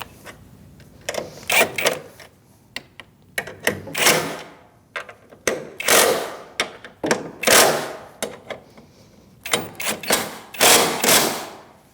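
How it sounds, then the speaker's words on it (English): Ratcheting of a 12mm socket tightening new strut bolts on a 2008-2014 Mercedes-Benz C300 front strut assembly: bursts of rapid clicking come close and loud, separated by short pauses, with no talk. "For the new strut, the new bolts require a 12mm socket."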